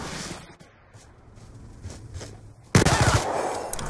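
PDW submachine gun fire in a first-person shooter game, a few faint shots under low game noise, then a sudden loud rapid burst of automatic fire close by.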